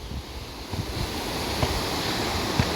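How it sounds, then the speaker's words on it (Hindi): Small waterfall in a mountain meadow at Khornar, giving a steady, close rush of falling water that fills the whole stretch evenly, with no voices. "ये सामने एक छोटा सा है, लेकिन जब पानी इसमें ज़्यादा होता होगा शानदार यहाँ का वाटरफॉल बनता होगा"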